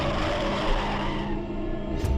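Car braking to a sudden stop, with a close, steady skid and tire scrape over engine rumble, then a brief thump at the end.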